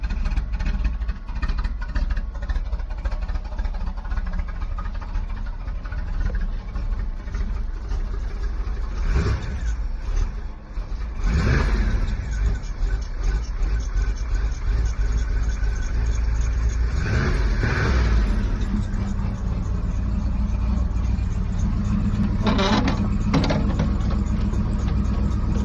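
A 1991 Chevrolet Camaro with a freshly installed exhaust idles steadily on a cold start, a continuous loud low rumble broken by several sharp revs that swell and fall back to idle.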